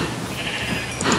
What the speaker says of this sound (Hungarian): Nézd meg a birkákat, szerinted etessem őket?